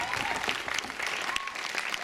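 Audience applause for the costume designers at a theatre performance, a steady dense clapping from a large crowd that holds throughout without letting up.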